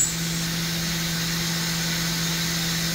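Spindle of a 2021 Kitamura MyCenter 4XV CNC vertical machining center running at high RPM, a steady, quiet, even whine with a faint hiss and no change over a few seconds.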